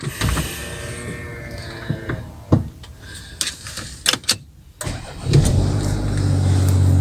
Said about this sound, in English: Okay, here we are, so ignition on, start her up.